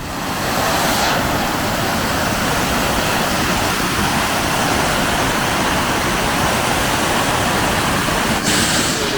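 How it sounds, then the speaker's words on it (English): A waterfall in the Zagros Mountains of Iran pours as a loud, steady broadband rush, continuous and close, with no voices. "We arrived to the waterfall again. It's so beautiful."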